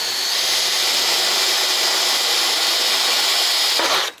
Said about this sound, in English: I'm gonna drill a hole through the kit